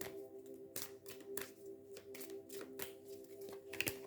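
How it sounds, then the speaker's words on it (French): Tarot cards being shuffled and drawn by hand, a series of crisp papery riffles and slaps at irregular intervals over a steady low hum, close and fairly quiet. "Je vais tirer les cartes de la Sears Tarot."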